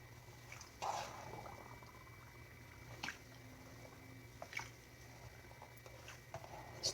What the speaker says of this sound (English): you can hear all the air bubbling out, just so that they get totally wet.